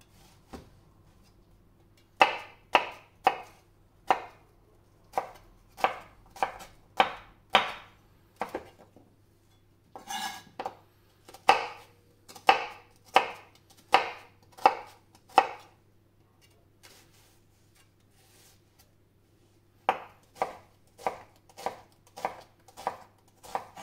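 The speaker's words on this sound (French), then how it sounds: "on va le couper en morceaux assez gros quand même" A knife cuts butternut squash into large chunks on a board: loud, evenly spaced thuds in several runs separated by short pauses, close and free of talk, over a faint low hum.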